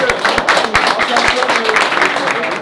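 At a Middle-earth Strategy Battle Game tournament awards ceremony, a small crowd gives a brief round of scattered hand claps under lively chatter and nearby voices.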